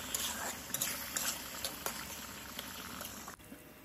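Fish curry with peas and tomato simmering in a pan, a soft bubbling and sizzling texture with a few small pops and clinks, fairly quiet and close.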